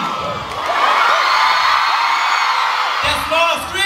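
A concert crowd at Le Bataclan screams and whoops in a sustained, loud roar that swells after a moment, with scattered shrill individual yells rising above the mass of voices.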